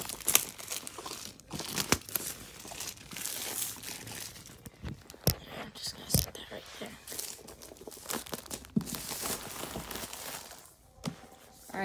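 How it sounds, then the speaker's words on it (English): Plastic wrapping is crinkled and torn off a Beats Studio 3 wireless headphones box, giving close, irregular rustling and crackling with sharp tearing snaps, mixed with faint talking. "So let's unwrap the wrapping."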